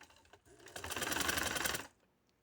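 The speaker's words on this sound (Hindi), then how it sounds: "आप पीछे सिलाई देखते जाएं, बड़े सफाई से सिलाई लगानी है" Sewing machine running a fast, even burst of stitches for a little over a second while lace trim is sewn onto a plain shalwar, close up and alone.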